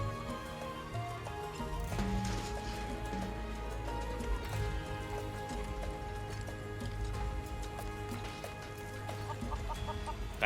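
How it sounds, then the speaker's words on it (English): Chickens cluck in the video game Final Fantasy VII Rebirth, repeated fowl calls over a steady bed of music and ambience, with hoof-like clopping in the background and no talking. "lure the missing chickens back to Kaza"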